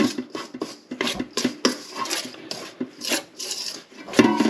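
A knife scrapes and cuts through soft scone dough on a work surface in a series of short, close rasping strokes with brief gaps between them, and no one speaks.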